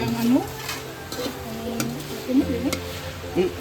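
Adobo cooks in a pan, with a steady sizzle and frying hiss broken by stirring and utensil scrapes, while voices chatter faintly in the background.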